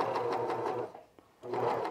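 A cover stitch sewing machine fitted with a binding attachment runs in two loud, steady bursts, stopping for about half a second in between, close up with no talking.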